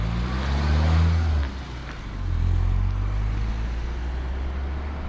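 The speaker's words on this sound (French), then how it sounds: "Je freine, il y a une voiture." A car hums past a cyclist on a road, a close, loud engine drone that dips briefly and then returns at a steady level.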